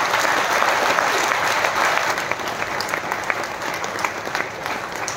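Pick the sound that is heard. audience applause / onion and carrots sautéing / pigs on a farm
audience applause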